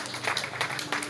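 A wedding congregation at a church service claps their hands together in praise, a brief, dense patter of many hands filling the room at moderate loudness.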